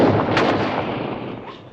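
A single loud gunshot cracks close by and rolls off into a fading, rumbling echo outdoors, with no voices over it.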